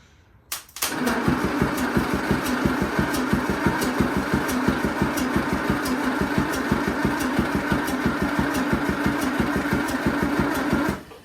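A Land Rover engine cranked over with no fuel or spark, a steady rapid rhythmic chug of the starter turning it for about ten seconds, loud and close, ending abruptly.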